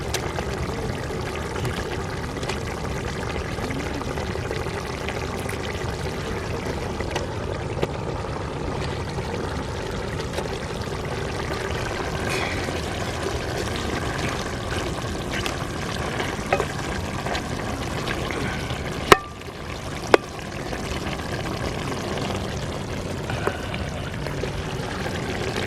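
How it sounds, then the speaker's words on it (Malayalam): Mackerel fries in masala in a pan with a continuous, dense sizzle for the whole stretch, broken by a couple of sharp clicks near the end. "അപ്പോൾ നമ്മൾ അയില അങ്ങോട്ട് ഇടുന്നുണ്ട."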